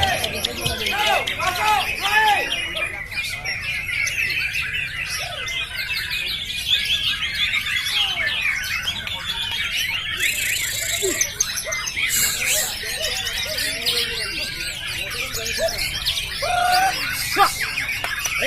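White-rumped shamas (murai batu) sing at a bird contest, with bright repeated chirps and whistled phrases over steady crowd chatter and background babble.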